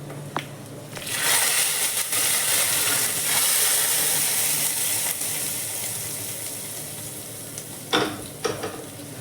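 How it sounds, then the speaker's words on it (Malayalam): Tempering sizzles in hot coconut oil for a Kerala pineapple pachadi, a steady close frying hiss with stirring that builds after a second, holds for several seconds and flares again near the end. "തീ ഓഫ് ചെയ്ത് വെളിച്ചെണ്ണ ചൂടാക്കി നമ്മളൊരു നല്ല ഒരു വറവൽ ഇടണം"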